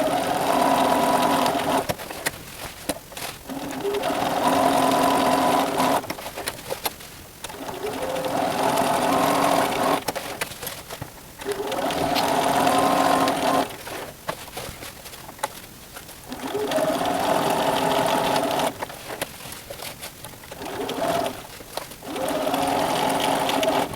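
A sewing machine stitches pockets into a fabric roll kit in repeated runs of steady whirring, each burst lasting a few seconds and separated by short pauses, close and clear with no talking.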